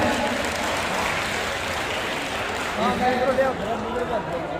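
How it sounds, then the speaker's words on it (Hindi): An audience at a Hindi poetry gathering claps steadily, a moderate wash of applause with a few louder bursts and a voice talking over it. "जिन तक आ रही है वो एक बार तालियां बजा के बता रहे।"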